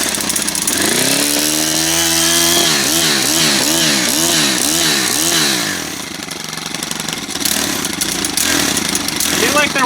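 A small gas string trimmer or leaf blower engine with freshly set valves runs loud and close, rising and wavering in pitch with throttle blips, then settling to a steady drone; a voice talks over it briefly.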